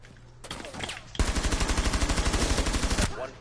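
Automatic gunfire tears through a garage wall in Rainbow Six Siege: a few scattered shots, then a loud, rapid, sustained burst lasting nearly two seconds before it cuts off.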